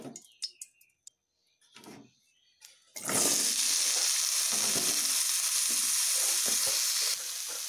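Carrots, radish, potatoes and squash drop into hot oil together and burst into a loud, steady sizzle after a few quiet clinks and rustles, continuing close up with faint stirring and birds chirping in the background.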